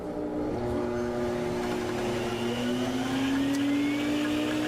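A SIRENA water-filter dust mite vacuum cleaner runs steadily and loudly up close, its motor giving a constant whirring drone with a tone that rises slowly.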